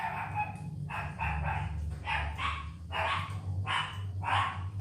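Several dogs bark in repeated loud bursts, about six close barks spread evenly over a few seconds against a low steady hum.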